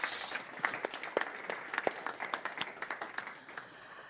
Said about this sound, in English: A round of applause, I think, for the Minister for setting the tone.